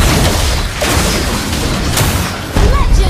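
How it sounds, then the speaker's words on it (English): A turret destroyed in Mobile Legends: a loud, dense booming blast with layered crashing effects, capped by a sharper impact near the end, all close and heavy amid busy battle noise. "You destroy the turret!"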